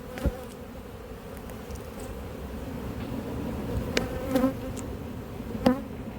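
Agitated honey bees buzz around an apiary hive, a close steady drone with individual bees whining past and louder swells as some fly near.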